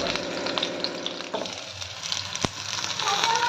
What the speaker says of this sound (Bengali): ঢাকা দিয়ে ভাজছি, একটু চড়া চড়া আছে